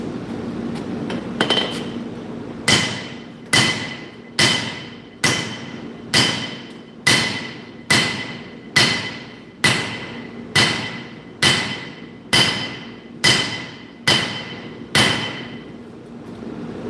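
Hand hammer strikes on hot steel being forged into a nakiri knife blade, about fourteen sharp ringing blows in a steady, evenly spaced rhythm, loud and close, with no talking.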